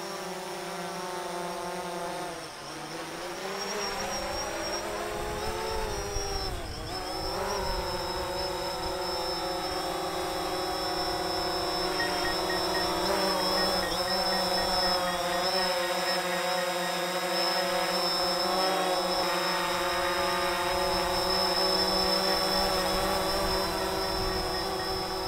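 A DJI Phantom 4 Pro drone in flight, a steady high whining buzz of spinning propellers with wavering pitch that dips briefly as it maneuvers, constant and fairly close throughout about twenty-five seconds, no talking.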